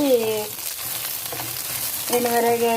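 Seekaya leaves frying in a pan of hot oil for a chutney, giving a steady close sizzle across the whole clip, with brief tonal hums near the start and end.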